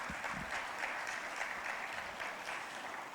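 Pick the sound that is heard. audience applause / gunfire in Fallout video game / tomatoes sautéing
audience applause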